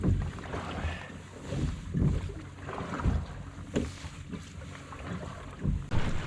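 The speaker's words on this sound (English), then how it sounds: "So I have to take the oars." Oars working a sailing canoe on open water off the Swedish coast between Gålö and Huvudskär, with irregular splashing strokes and water wash under steady wind noise buffeting the microphone.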